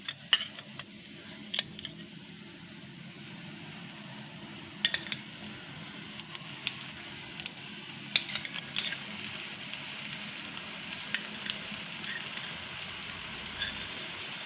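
Raw banana slices fry in one or two spoons of oil on a flat tava, a steady close sizzle with occasional light clicks and scrapes of a utensil, no voices.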